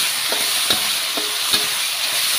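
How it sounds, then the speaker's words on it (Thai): Chili, garlic and meatballs are stir-fried in a pan under a steady hiss of sizzling oil, punctuated by a few sharp spatula scrapes and clacks at roughly regular intervals. "พริกกับกระเทียมนะคะผัดให้หอมแล้วเราจะใส่ลูกชิ้นลงไปเลย"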